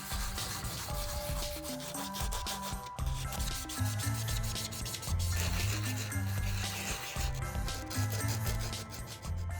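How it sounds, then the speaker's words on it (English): Steady rhythmic hand sanding on the back of a 3D-printed figure, a continuous scratchy rubbing in repeated strokes, loud and close, with music playing underneath. "So I get to sanding."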